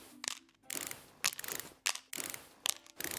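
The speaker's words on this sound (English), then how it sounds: "See, this screwdriver is fast." Rapid ratcheting whirs of a power screwdriver backing out screws in Electrician Simulator, four or five short mechanical bursts separated by brief pauses, close and fairly quiet.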